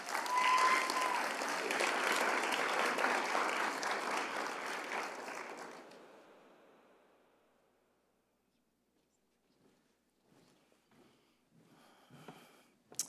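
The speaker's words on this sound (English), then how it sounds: "Give her a round of applause." A university awards ceremony audience applauds an honoree, steady full clapping for about six seconds that fades out to near silence, followed by faint scattered rustles and small sounds.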